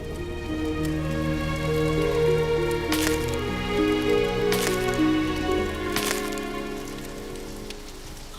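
Heavy rain pours in a steady, dense hiss beneath sustained musical tones, with three sharp bright bursts breaking through at intervals and no talking.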